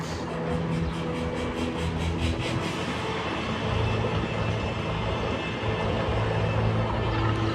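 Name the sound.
roller coaster train moving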